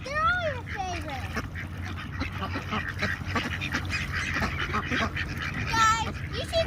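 Ducks at a park quacking in several short bursts at moderate distance, a mix of louder nearby calls and fainter ones over a busy outdoor background, with a person talking at times.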